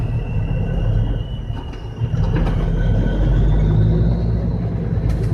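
An oversize load truck's engine rumbles loudly and steadily, a deep low drone that swells slightly as the big rig picks up speed, with a faint whine riding above it.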